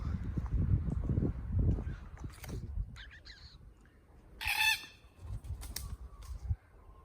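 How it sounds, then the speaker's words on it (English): A few harsh, scratchy red-tailed cockatoo calls ring out intermittently over low rumbling background noise, some distant and one louder burst midway. "this is our red-tailed cockatoos"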